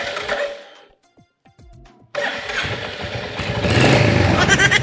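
A motorcycle is started in a rural household setting: a short quiet stretch with faint clicks, then the engine catches abruptly and runs loud and close, building into a stronger revving roar.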